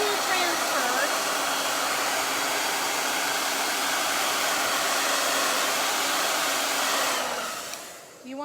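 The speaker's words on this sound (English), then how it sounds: "I'm going to dry this on a cool setting on a dryer" A hair dryer on a cool setting blows with a steady loud whooshing hiss close by, then switches off near the end.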